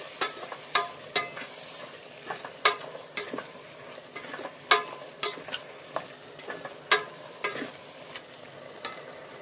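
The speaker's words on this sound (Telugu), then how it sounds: "సాల్ట్, ఇవన్నీ వేసేసి ఒకసారి అయితే మిక్స్ చేసేద్దాం" Paneer pulav ingredients and salt stirred in a pan, a spoon scraping and clicking against the metal in an irregular close rhythm over a soft, steady sizzle, no talking.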